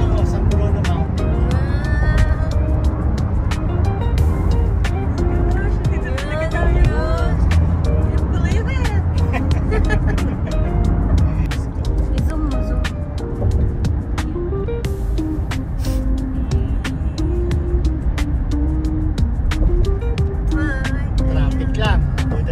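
Road traffic outside San Francisco International Airport: a continuous rumbling wash of passing cars and vehicles, with people talking over it throughout.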